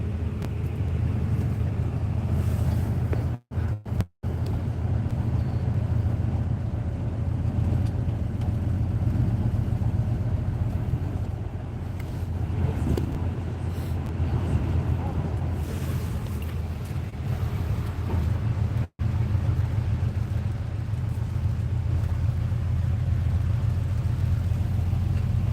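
Steady, loud low rumble of a bus travelling through rainy, foggy mountain countryside in Vietnam, with wind noise throughout and a few brief dropouts; no talking.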